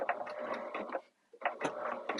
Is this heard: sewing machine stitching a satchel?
yes